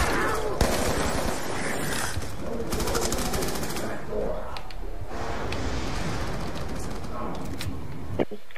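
M1927 submachine gun fire in Black Ops 2's Mob of the Dead zombies mode, rapid bursts of loud automatic shots that sound dense and continuous at first, then thin out into scattered cracks amid game noise.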